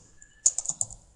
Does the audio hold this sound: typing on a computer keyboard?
yes